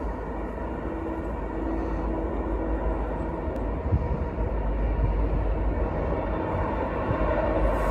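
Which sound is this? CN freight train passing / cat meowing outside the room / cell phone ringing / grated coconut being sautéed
CN freight train passing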